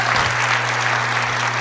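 Church congregation applauding during a sermon, a dense, loud, continuous wash of clapping from many hands, close and unbroken.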